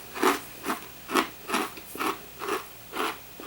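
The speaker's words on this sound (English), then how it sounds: "they're hard and crunchy like a crouton." Seven evenly spaced crunchy bites into hard, buttery Melba toast, close and crisp at a steady rhythm of about two per second, with no talking.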